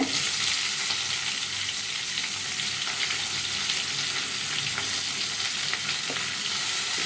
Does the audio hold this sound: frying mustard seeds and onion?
yes